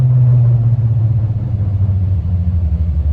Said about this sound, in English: it has these big mud tires on it that make the most annoying sound ever.